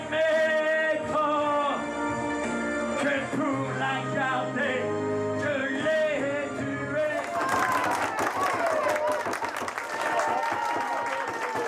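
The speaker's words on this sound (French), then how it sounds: "on les applaudit très fort, tous les deux" Music from a televised show ends partway through and gives way to loud audience applause, a dense burst of clapping mixed with cheers and whoops.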